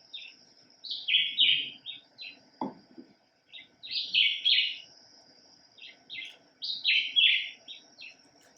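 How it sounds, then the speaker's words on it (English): Several songbirds sing and chirp outdoors in summer in the Florida Keys in bright, varied phrases, with one short low thump partway through; no talking. "this is one of the main birds you hear singing"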